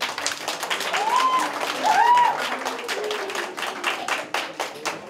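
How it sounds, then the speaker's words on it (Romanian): Party guests clap together in a lively, uneven patter for several seconds, with voices and a short tonal sound mixed into the applause. "merită să o aplaudați?"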